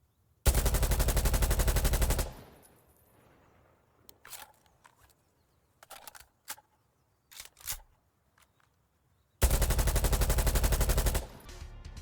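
Tavor 7 rifle in the shooter game Insurgency Sandstorm fires two long full-auto bursts with rattling, tinny mechanical clatter between them, loud and close with no voices.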